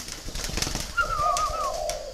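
Spotted doves coo close by in a few soft, low repeated notes, with a faint background rustle and no voices.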